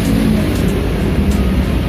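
An Uwinfly T3 electric motorbike under throttle gives a steady, loud whirring drone close by for about two seconds, with a faint high whine on top and no talk.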